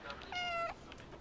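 A single clear cat meow, close and fairly loud, from the video game Stray, rising and holding steady for under half a second before fading into quiet background.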